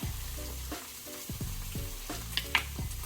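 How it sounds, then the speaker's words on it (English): Ketchup being stirred quickly into garlic frying in a pan for honey garlic chicken: constant close sizzling with repeated spatula scrapes and a couple of sharp clicks against the pan. "we want to stir that in there quickly so it won't burn"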